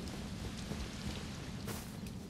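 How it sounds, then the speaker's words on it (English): Steady rain falls in Elden Ring, a dense, even hiss of drops with a soft low rumble underneath, constant and fairly quiet, with no voices over it. "it's raining now"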